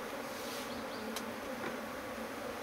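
Honey bees from a colony built inside a house, buzzing steadily around a hive box as they are moved, a continuous close droning hum with no voices.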